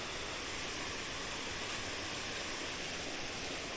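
Steady broadband rush of creek water pouring over a spillway, a dense continuous roar with no breaks, close and fairly loud throughout.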